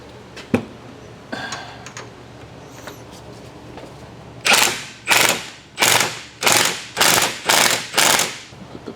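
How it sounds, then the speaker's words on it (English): A ratchet tightens the ball joint nut on a Subaru BRZ: a few scattered clicks, then seven loud, evenly spaced bursts of rapid ratcheting close by. "Let's go ahead and get that ball joint nut back on."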